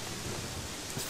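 Steady rain falls in the video game Gothic 3, a soft, dense wash of patter that holds evenly with no voices over it and only a faint low swell near the end.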